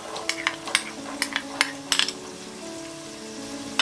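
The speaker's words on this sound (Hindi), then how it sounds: "अब हम इसमें बाकी सारे सब्जियां डालेंगे, ये फ्रेंच बीन्स" Vegetables for veg pulao—French beans, green peas, carrot, potato and cauliflower—tipped into a hot pan with cashews and stirred, with soft sizzling and a string of sharp metallic clinks and scrapes of a spoon against the pan.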